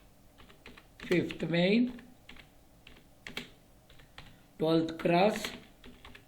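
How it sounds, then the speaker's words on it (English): An address being typed on a computer keyboard gives soft, scattered key taps under a voice as he speaks. "So type the address."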